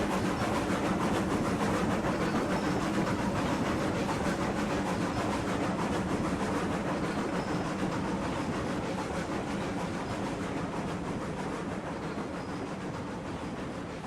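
A Class 70 locomotive hauling 27 coal cars in the train game RailRoads Online rumbles past as a steady, dense mechanical drone with a low hiss, easing slightly quieter toward the end.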